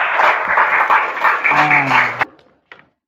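A classroom group claps together in a brief burst of applause for a couple of seconds, then it quickly stops, leaving near silence.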